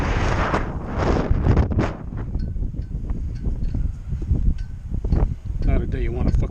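Strong wind gusts buffet an apple orchard, roaring and rumbling loudly across the microphone in uneven bursts, with a person speaking at intervals over the gusting.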